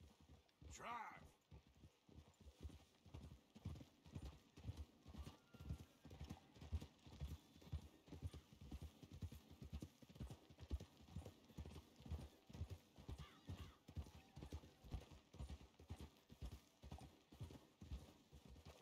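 Horses walking on a steady clip-clop of hooves through the whole stretch, with a brief whinny near the start, heard at a faint, distant level under a quiet background.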